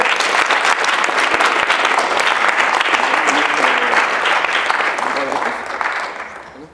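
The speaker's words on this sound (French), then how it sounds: "On va les applaudir, s'il vous plaît." Loud, sustained applause from an audience at a student debate, dense clapping filling the room, with some murmured voices mixed in, then tapering off toward the end.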